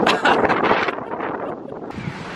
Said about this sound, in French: regarde quand le vent il se lève, regardez ça